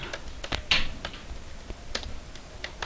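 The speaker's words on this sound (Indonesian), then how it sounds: "Kita tinggal ketikkan perintah cd." Keys tapped on a computer keyboard to enter a terminal command during a Linux shell session: a handful of sharp, irregular clicks, close and fairly quiet, with no talking.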